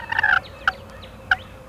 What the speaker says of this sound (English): undisputed vision king is the eastern wild turkey